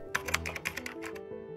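Rapid keyboard typing, a quick run of sharp keystroke clicks over a steady tonal backing, close and moderately loud.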